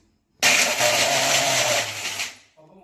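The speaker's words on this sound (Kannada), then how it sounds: "ಸ್ವಲ್ಪ ನೀರನ್ನ ಸೇರಿಸ್ಕೊಂಡು ಇವಾಗ ಇದನ್ನ ಪೇಸ್ಟ್ ತರ ರುಬ್ಕೋಬೇಕು" A mixer grinder whirs loudly and steadily as it grinds cashews and coconut with a little water into a paste, running alone for about two seconds before spinning down.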